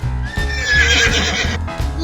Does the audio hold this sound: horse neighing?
yes